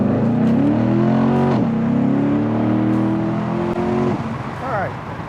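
A 2014 Corvette Z51 coupe accelerates hard from a rolling start, its engine note climbing steadily and loudly with a brief dip at a gear change, then easing off near the end.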